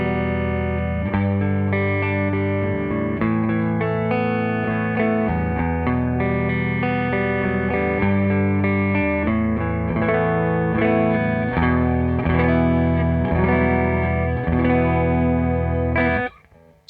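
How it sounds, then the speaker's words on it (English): A Fender Telecaster on its neck pickup plays a jazzy minor 9 chord progression, warm sustained chords with light effects, ringing out clearly for the whole stretch before stopping abruptly at the end. "Just like a guitar is supposed to sound on the neck pickup."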